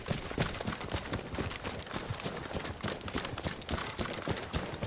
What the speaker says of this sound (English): I'll show you a demo here of how your footsteps sound to you without Slink.